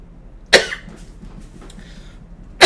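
Two sharp, close coughs, one near the start and another at the very end, separated by quiet room noise.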